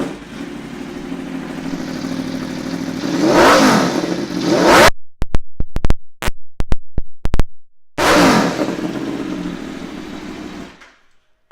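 A 2016 Aprilia Tuono V4 Factory 1100 with an Austin Racing exhaust revs hard up close, its loud roar swelling, then breaking into sharp, choppy blips before one more surge fades into silence.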